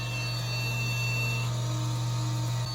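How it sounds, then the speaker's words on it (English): A steady electronic beeping tone drones continuously from a Core 2 Duo computer, with a faint high pitch above a strong low hum, unchanging throughout. "Why is it beeping like that?"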